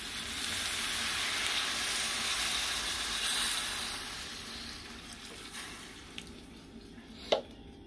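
Water pours and sizzles into a hot pot of chicken and pumpkin, a continuous hissing rush that slowly fades, followed by a few small clanks and a sharp knock near the end.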